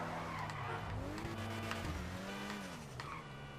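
A GTA Ubermacht Zion Classic, an old-time car, drifts with tires squealing in long wavering tones over a steady engine drone, loud and continuous throughout.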